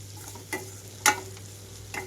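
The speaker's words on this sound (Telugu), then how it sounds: "ఎక్కువగా కదిలిస్తే చితికిపోతుంది అనుకుంటే కొద్దిగా ఒకసారి ఎగరేసినట్లుగా చేసుకోండి చక్కగా కలిసిపోతాయి తాలింపులో" Broad beans get tossed in a hot tempering pan, giving a low steady sizzle with a few sharp scraping stirs and clinks, close and fairly quiet.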